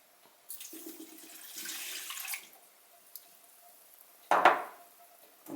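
Water runs from a tap into a bowl while dough ingredients are being mixed, coming in short splashy bursts with a brief louder gush near the end, quiet and close in a home kitchen.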